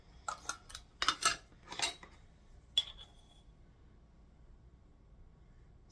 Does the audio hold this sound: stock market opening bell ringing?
no